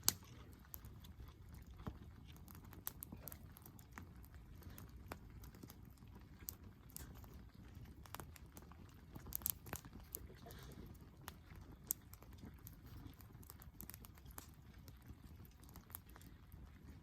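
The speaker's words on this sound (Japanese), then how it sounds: "雨降ってきたね。" Rain beginning to fall during a campfire outing, a soft, steady patter of drops spread evenly across the clip, faint and close, with scattered sharper taps.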